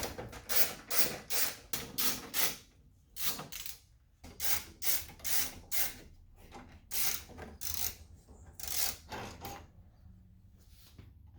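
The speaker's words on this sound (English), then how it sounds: "flexible ratchet" A flexible ratchet works a 10mm bolt during a Saab 9-3 fender replacement. It gives repeated close, rasping clicking bursts in a steady back-and-forth rhythm with brief pauses.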